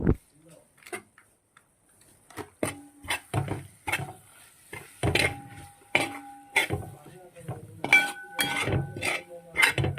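A beef curry masala being stirred in a pot for an Easter beef curry, heard as irregular metallic scrapes and clinks of a utensil against the pot, with people talking intermittently over it.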